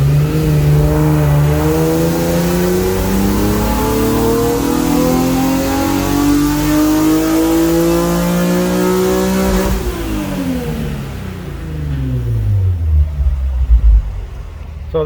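A tuned car with test pipes and new exhaust, revving on a dyno during a pull: the engine climbs steadily in pitch for about ten seconds, then drops back and winds down, loud and close.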